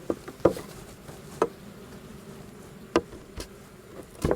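Honey bees buzz around an open beehive during an inspection, a low, steady hum with a few sharper close passes of individual bees near the microphone.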